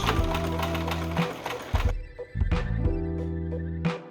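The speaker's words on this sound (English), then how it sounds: "I'm gonna start off slow and do a little back stitch." Domestic sewing machine stitching a back stitch on an oversized hoodie, running in steady close bursts that stop briefly and start again, loud and mechanical with a low rhythmic hum.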